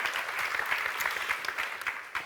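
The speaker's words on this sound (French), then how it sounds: "Félicitations, on peut les applaudir." Audience at a brand content awards ceremony applauding the winners, sustained dense clapping from a room full of people, moderately distant and fairly even.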